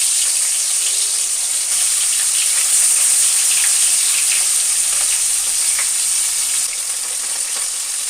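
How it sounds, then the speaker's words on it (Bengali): Tilapia fish pieces frying in hot oil with bay leaf, dried chilli, tomato, onion and ginger, a loud steady close-up sizzle that stays dense and crackling throughout. "তেলটা গরম হয়ে গেছে, এবার আমি মাছগুলোকে একে একে দিয়ে দেব।"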